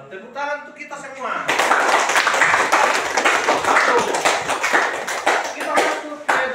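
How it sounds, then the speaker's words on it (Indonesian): Classroom applause from a group of students: after a short sung or spoken phrase, a burst of dense, steady clapping starts and continues loudly and evenly to the end, with voices faintly mixed in. "Tepuk tangan untuk kita semua."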